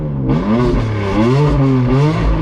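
A 1000HP BMW M4 F83 convertible with a loud aftermarket exhaust starts up, its starter catching into a deep, loud rumbling idle that swells and wavers close by throughout.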